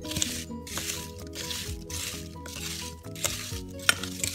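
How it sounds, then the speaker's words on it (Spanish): Chopped apples tossed with lemon juice and sugar in a bowl, giving repeated wet squishing and scraping stirs in an even rhythm, close and fairly loud, with background music underneath. "simplemente lo vamos a revolver un poco para que todo se incorpore"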